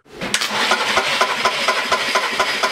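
A cold Skoda engine for a 2009 Yeti cranking over on the starter during a compression test, rhythmic chugging pulses at an even pace with a hissing edge, close and loud.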